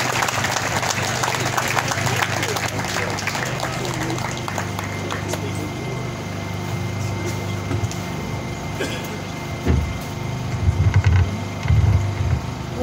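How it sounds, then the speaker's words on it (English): An audience at an AA round-up meeting applauds to welcome a speaker, a sustained wash of clapping that fills the room and tapers toward the end, with a few louder bumps and stray crowd noises. "Can we all please give a round of applause and welcome Candy S."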